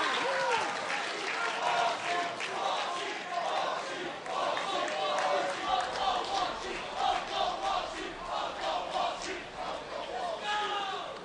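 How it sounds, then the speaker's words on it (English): A crowd at an MLG Halo match in the Meadowlands chants and cheers loudly and continuously, a dense roar of many voices with rhythmic shouting and some clapping throughout. "And the crowd's chanting Uncle Walshy"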